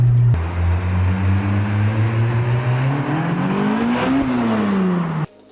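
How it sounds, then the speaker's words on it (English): A 406-horsepower turbocharged Honda S2000 accelerates at full throttle, its engine note climbing steadily through the revs, loud and close, before cutting off abruptly at the end. "So we'll go ahead in 3, 2, 1, full throttle."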